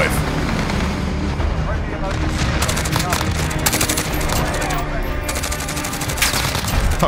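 Automatic gunfire from a weapon in Modern Warfare 2019, a rapid string of close, crackling shots through much of the stretch over constant game noise, with a player's voice talking across it.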